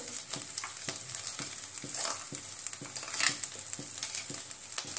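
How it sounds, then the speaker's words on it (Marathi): Sabudana khichdi with coarsely crushed peanuts being stirred in a pan, soft rhythmic scraping strokes over a faint, quiet sizzle, with no talking. "इथे आपण 5 मिनिटं साबुदाणा परतलेला आहे, त्यामध्ये आपण शेंगदाण्याचा बारीक कूट करून घेतलेला आहे, तो आपण टाकून घेऊ"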